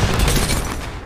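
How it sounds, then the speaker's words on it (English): A grenade blows up in a first-person shooter game, a single short, loud burst with a deep boom that fades quickly. "I'm gonna chuck a nade"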